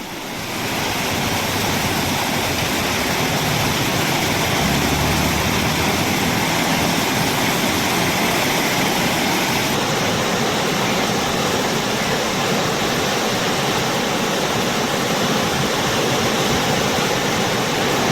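A loud, steady roar of a flash flood in the Thottilpalam river in Kerala during heavy rain, continuous and dense throughout with no voices or breaks.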